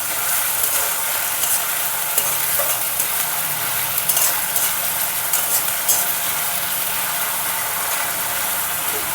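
Onion paste fries and is stirred in a pan over a high gas flame while fish-head cabbage curry is prepared, a loud, dense sizzle with scraping stirring strokes throughout.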